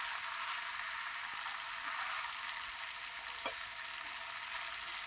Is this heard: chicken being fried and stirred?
yes